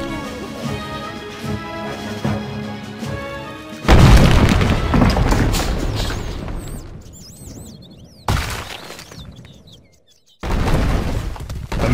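Castle destruction in the strategy game Stronghold Crusader Extreme: music plays at first, then loud booming crashes and rumbling impacts break in, fading out briefly before another burst of heavy destruction noise.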